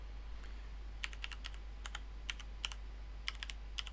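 Keys clatter on a computer keyboard as login credentials are entered on a Raspberry Pi virtual machine, a few sparse taps and then short quick bursts of typing, close and crisp over a steady low hum.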